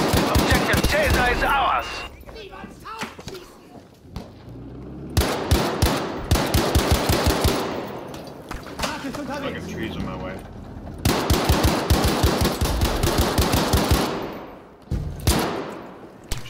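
Gunfire in the video game Battlefield 5, rapid machine-gun bursts loud and close, coming in several long volleys separated by brief lulls, with a player shouting and an in-game voice announcement.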